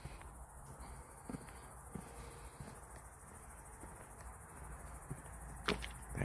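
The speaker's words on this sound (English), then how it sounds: "that cricket is going wild" A cricket chirps steadily outdoors on a cloudy evening in Switzerland, a thin, faint, continuous trill over low background rumble and a few soft knocks.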